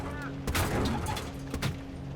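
Aircraft gunfire in War Thunder during first-person flight, a couple of short, muffled bursts over a steady engine drone, with a faint voice in the background.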